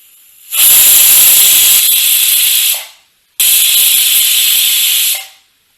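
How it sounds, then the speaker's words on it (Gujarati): Two long, loud hissing pressure cooker whistle blasts over a medium-high flame, each lasting about two seconds, separated by a short pause of silence. "અહીંયા 2 સીટી થઈ ગઈ છે"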